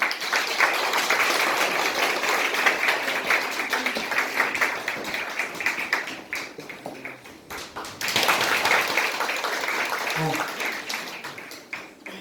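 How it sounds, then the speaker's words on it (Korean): Warm applause welcoming author Hwang Jeong-hee at her book event, with dense clapping that thins midway, then swells again briefly before fading into scattered claps and murmuring voices. "여러분 따뜻한 박수로 맞이해 주시기 바랍니다"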